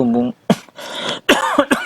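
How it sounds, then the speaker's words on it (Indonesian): A couple of short, sharp coughs break up nearby speech, close and fairly loud. "maaf doh lagi batuk"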